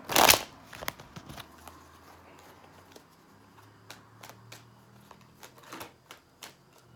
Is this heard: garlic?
no